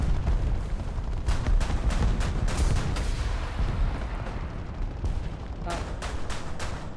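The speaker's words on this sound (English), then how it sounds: "Fire a missile." Loud, dense in-game combat with a missile launch amid booming, crackling explosions and gunfire, a roaring wash that thins briefly near five seconds before sharp blasts return.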